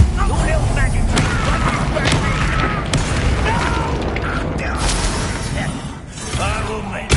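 A Confringo explosive spell fires in Hogwarts Legacy during a wizard duel, with loud booming blasts amid a dense mix of combat effects while voices talk over the action.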